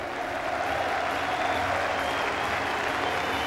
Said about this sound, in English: and the applause was mutual